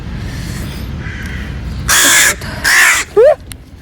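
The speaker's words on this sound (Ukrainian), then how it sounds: "Ворона прийшла мене атакувати." A crow caws harshly and loudly in three bursts while attacking, the calls standing out sharply against a steady outdoor background.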